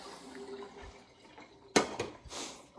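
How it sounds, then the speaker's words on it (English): Water splashes over drained pasta in a kitchen, a quiet trickle and rinse with a few sharp louder gushes and splatters near the end. "I'm going to get that drained and rinsed real good"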